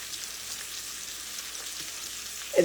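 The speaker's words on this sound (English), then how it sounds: "I'm just slow cooking these chops. Gonna add a little more butter." Pork chops frying slowly in butter in a pan, a steady close sizzle that stays even throughout, with a brief clatter near the end and no talk.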